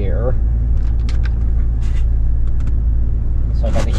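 A Land Rover Discovery 1 engine idles steadily with the heater on its lowest setting, a constant low rumble running throughout, with faint clicks and rustles near the microphone on top.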